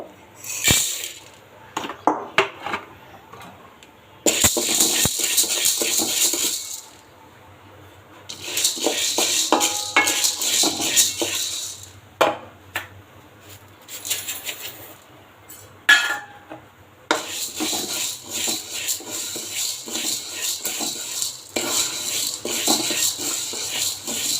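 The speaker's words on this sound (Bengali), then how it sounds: "আমি এখন ডালগুলো ভেজে নিব" Lentils (dal) being fried in a pan for khichuri, heard as intermittent scraping and clinking of a utensil against the pan in close bursts with quiet gaps between them.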